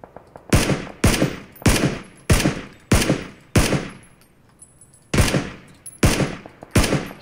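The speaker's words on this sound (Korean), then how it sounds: "산 위에서 계속 총소리 들려요." Repeated loud gunshots in the video game PUBG: Battlegrounds, in quick bursts, about ten sharp cracks with short echoing tails, spaced roughly evenly with a brief pause midway.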